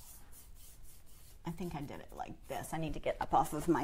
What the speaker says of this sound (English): then I come back and I rub it with my brush